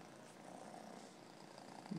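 A cat purrs close by in a steady, soft, continuous rumble, with a slightly louder swell right at the end.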